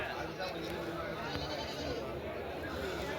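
Goats bleat at a busy outdoor goat market, the calls faint and scattered under steady crowd chatter and people talking nearby.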